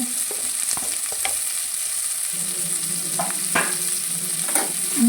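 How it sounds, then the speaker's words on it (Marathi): Onion hitting a hot pan for palak egg curry, a low steady sizzle with scraping stirs and a few spoon knocks against the pan, close by, no talking. "नंतर आपण टाकणार आहोत कांदा"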